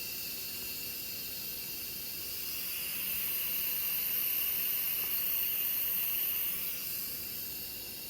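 An Instant Pot vents steam while depressurizing after cooking rice porridge, a continuous airy hiss that swells slightly in the middle and holds at a moderate, even level.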